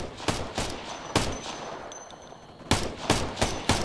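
Gunfire in the military shooter Operation Flashpoint: Red River, sharp loud shots in short bursts and single cracks, spaced irregularly with a quieter gap before a final cluster, fairly close.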